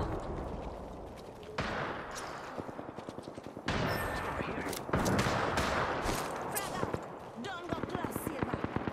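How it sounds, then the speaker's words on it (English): Gunfire in a PC shooter video game, bursts of shots crackling at a distance in repeated volleys across the whole stretch, with no talk over them. "there's someone shooting way out here"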